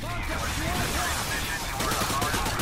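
Gunfire in Call of Duty Modern Warfare 2: a dense, continuous clatter of rapid automatic shots and overlapping battle noise, fairly loud throughout with no pauses.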